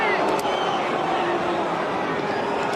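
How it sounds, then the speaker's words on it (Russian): Dense roar of a football stadium crowd at Stamford Bridge during a Champions League match against Ajax, a steady, loud, continuous hubbub with no single voice standing out. "И снова болельщики Аякса как-то теряются в гуле стадиона Стэмфорд-Бридж"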